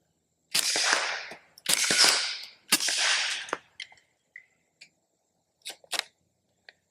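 Several sharp, loud shots from a Bear Creek Arsenal BC-101 pistol in quick bursts, then a few fainter clicks and pops spaced apart, with quiet gaps between.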